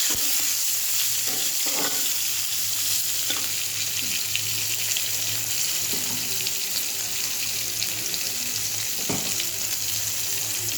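Tomatoes fry in hot oil, a loud continuous sizzle and hiss close by, with a few clattering stirs and scrapes of a utensil against the pan scattered through it and no talking.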